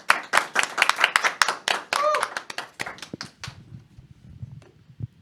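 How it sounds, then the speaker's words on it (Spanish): Applause greeting a guest on a talk show, a burst of brisk hand clapping from a small audience that thins out and fades into scattered claps and room noise over about five seconds. "Jessica de la Cruz, a la cual recibimos con un fuerte aplauso."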